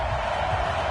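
Steady stadium crowd roar from a football video game, a dense, continuous wash of noise filling the whole moment without any clear cheers.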